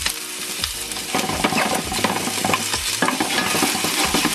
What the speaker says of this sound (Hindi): ओके सो हम इसमें गार्लिक को बहुत ज़्यादा कुक नहीं करेंगे क्योंकि हमें थोड़ा रॉ फ्लेवर चाहिए